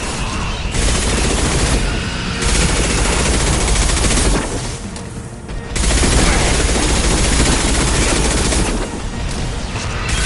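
Guardian anti-ship batteries in Mass Effect 2 pounding away in loud, dense rapid-fire bursts that run for seconds at a time, broken by short lulls before the barrage resumes.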